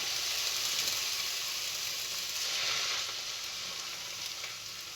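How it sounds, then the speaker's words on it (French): Chopped peppers and onion hit a hot frying pan for a Turkish-style pizza topping, giving a steady loud sizzle and hiss that eases slightly toward the end, with no talking. "je vais verser les poivrons et l'oignon"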